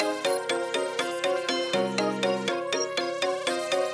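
A bouncy trap beat melody plays with a lead synth layered on top, bright plucked notes repeating in a quick steady rhythm over a held lower tone, loud and clear with no voices.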